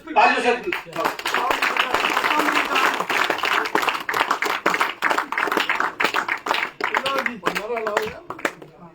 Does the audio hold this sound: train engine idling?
no